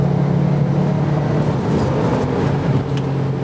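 A rally car's engine drones steadily as it pulls through the gears, a loud, close, continuous low-pitched growl with no pauses or voices.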